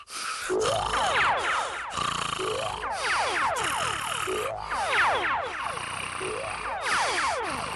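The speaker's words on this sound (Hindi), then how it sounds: "ये तो तुम्हारे खर्राटों की आवाज थी" A cartoon character snores loudly in a Hindi-dubbed Ninja Hattori episode. Repeated rising and falling cartoonish snore sweeps come in steady cycles, about once every second or two, with no talking.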